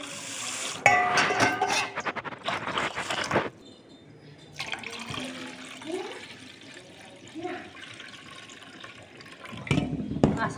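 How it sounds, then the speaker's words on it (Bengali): Rice rinsed under a running tap in a metal pot, with water gushing and splashing in bursts, grains swishing and a few clanks against the vessel, separated by a quieter stretch with light dripping. "এখন আমি চালগুলো খুব সুন্দর করে ধুয়ে নিচ্ছি"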